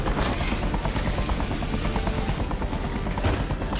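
Loud, steady video game helicopter rotor roar dominates throughout, a dense whirring drone with faint rhythmic chopping and no talking.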